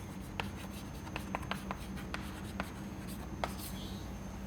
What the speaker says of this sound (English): maybe I just write it down